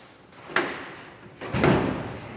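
A farm building door being pulled shut, with a sharp knock followed a second later by a heavier thud as it closes, close by, with no speech.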